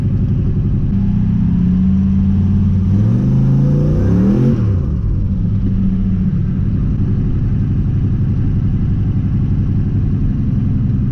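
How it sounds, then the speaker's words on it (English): A car with a cheap turbocharged LS engine revs hard while spinning one tire, loud and close, the engine pitch climbing in surges and then dropping back to a rough, steady drone. "Keep spinning our one tire"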